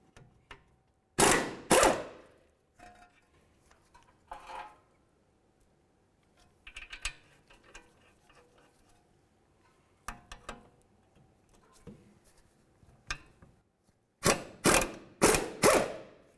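A ratchet loosens two 17mm caliper bracket bolts on a 2002-2006 Honda CR-V during a front brake caliper replacement, giving short bursts of rapid clicking separated by quiet pauses, close and sharp.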